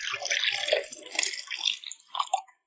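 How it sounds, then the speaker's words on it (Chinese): Yeast water, stirred until the yeast dissolved, poured from a bowl back into a measuring cup in a home kitchen; a close, continuous splashing pour lasting a couple of seconds, ending with a few drips. "再把它倒回量杯中。"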